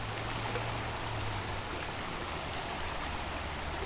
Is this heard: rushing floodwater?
yes